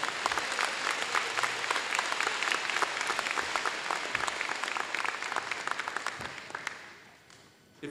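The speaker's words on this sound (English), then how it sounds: "I want you to give her a special round of applause." Sustained applause from a school gathering welcoming a new staff member at Harrison Park, dense steady clapping from a large crowd that fades out near the end.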